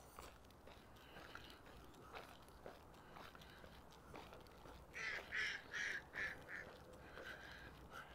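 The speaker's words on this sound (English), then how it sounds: "ducks having their say" Ducks at a lake in Regina give a quick series of quacks about midway through, set against a low outdoor hum with soft scattered noises.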